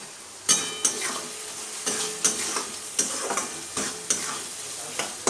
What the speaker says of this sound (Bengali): মশলাটাকে এবার ভালো করে কষিয়ে নিতে হবে